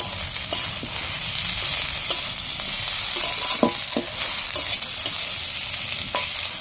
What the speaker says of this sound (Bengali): পাঁচ পিস আলু তুলে দিচ্ছি